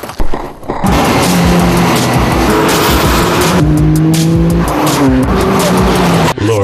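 Racing cars roar continuously in the High Octane 4 video game, engines loud and close with repeated tire squeals and skids over a steady game soundtrack.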